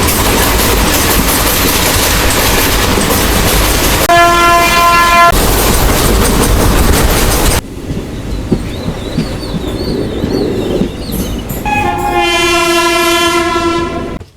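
A passenger train running from Mayiladuthurai to Karaikal via Peralam rushes along the rails at about 100 km/h, a loud continuous roar with clattering wheels, broken by long blasts of the train horn.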